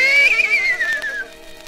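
Cartoon horse neigh from a rabbit character turning into a horse, a loud, close whinny with a high wavering pitch that slides downward and fades.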